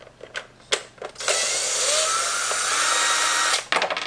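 A power driver backs Phillips screws out of the rear fender hardware on a 2017-or-later Kawasaki Z650 or Ninja 650, with a few short bursts first and then one long, steady, close whirring run that stops abruptly near the end.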